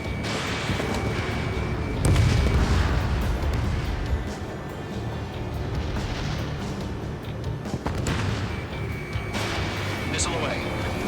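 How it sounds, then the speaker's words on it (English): A missile fired from an F-2A jet in Ace Combat 7 bursts out loudly about two seconds in over a steady jet-engine roar, with radio voices talking around it. "Missile away."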